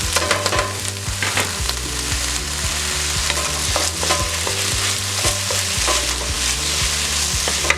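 Soy mince fries loudly in a pot for vegan steamed cabbage, with a constant close sizzle and repeated scraping and stirring strokes throughout and no voices.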